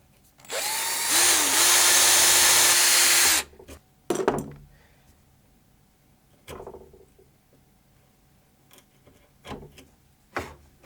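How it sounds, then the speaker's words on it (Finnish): A drill boring out an old wooden dowel, one loud close whirring burst of about three seconds, then quieter scattered clicks and knocks of handling the bit and wood, no talking. "Päätin aloittaa poraamalla pienen reijän keskelle vanhaa tappia ja kasvattaa terän kokoa asteittain"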